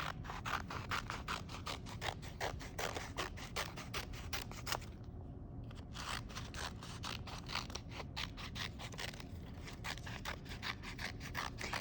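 Scissors snip steadily through stacked paper, cutting long strips across the full length of the sheets in a rapid, regular rhythm of close, crisp cuts with one brief pause partway through.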